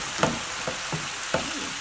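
Tofu noodles and bean sprouts stir-frying in a pan, with a quiet steady sizzle broken by a few soft tossing scrapes.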